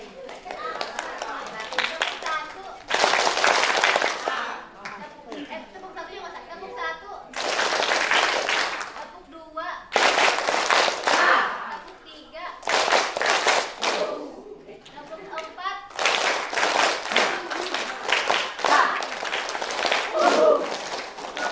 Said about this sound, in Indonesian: kita tepuk irama dulu ya